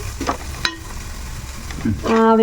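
Chili masala stirred in a frying pan for crab curry, with a close sizzle and quick scraping strokes of a spoon, briefly joined by tonal clinks at the end.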